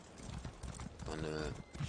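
Rapid video game horse hoofbeats clatter in a galloping rhythm while someone talks over them, the hooves close but partly masked by his voice.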